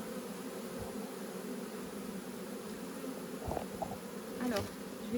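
Bees buzz steadily in a low, continuous hum, with a few louder individual bees passing close near the end.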